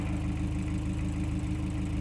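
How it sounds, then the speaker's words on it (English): Toyota MR2 engine idling warm at about 780 RPM, a steady low rhythmic hum heard close and fairly quiet, with no voices. "That's with the engine idling, 780 RPMs."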